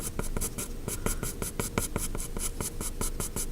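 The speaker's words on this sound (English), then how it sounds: "I'm just taking my pencil and scribbling another piece of paper to create that slant" A pencil scribbles quickly across a sheet of paper, a steady run of close, dry scratching strokes in a brisk rhythm with no voices.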